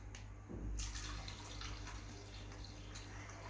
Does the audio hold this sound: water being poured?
yes